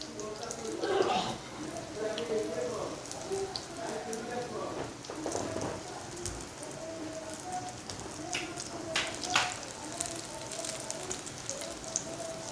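Oats pakoras frying in hot oil with a steady close crackling sizzle throughout, under someone talking.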